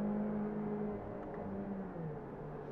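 A Ferrari Challenge race car at Brands Hatch holds steady at the pit lane rev limiter, its engine a close, even drone with a slight dip in pitch partway through.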